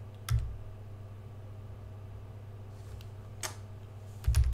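A computer keyboard typing a terminal command on a Linux machine, with a few sparse, quiet key clicks separated by pauses over faint background hum.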